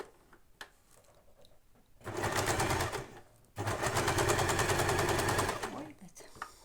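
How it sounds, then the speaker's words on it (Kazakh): A sewing machine stitching a homemade fabric ball runs in two rapid, buzzing bursts of a couple of seconds each, close and loud, with quiet handling sounds before and between. "Енді машинкамен тігіп алатын боламыз"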